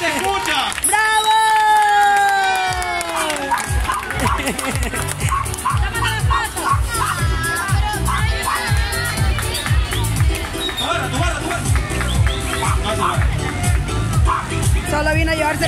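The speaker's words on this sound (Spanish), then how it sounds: "¡Fuerte los aplausos!" Crowd cheering and clapping for a dancer in a contest, loud shouts and whoops at first, then rowdy hubbub with clapping and music underneath, voices shouting throughout.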